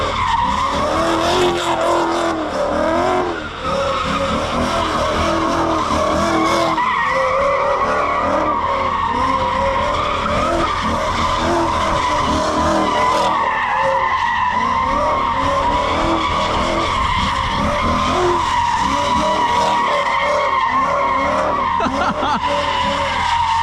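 A 2024 Ford Mustang GT roaring with a loud open exhaust while its tires squeal and skid continuously, close up and sustained for over twenty seconds with the engine droning under the screech.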